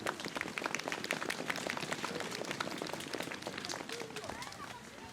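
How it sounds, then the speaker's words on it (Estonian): Audience applause after a song performance at a first-Advent Christmas peace event in Keila, a steady, fairly faint patter of many hands clapping for about five seconds before easing slightly. "Palume talle aplausi"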